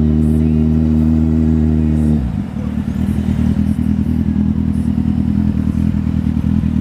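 A Kawasaki Z800 motorcycle engine idles with a steady, even throb, then is revved and opened up into a loud, rough, close roar that holds to the end.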